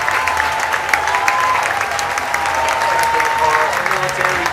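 A crowd at a minor-league baseball game applauding steadily, dense clapping filling the space with scattered voices and cheers mixed in.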